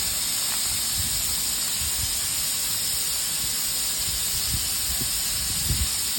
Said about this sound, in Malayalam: കുക്കറിൽ വിസിലടിക്കണോ അത് വേവാൻ വേണ്ടി വെയിറ്റ് ചെയ്തുകൊണ്ടിരിക്കുന്നു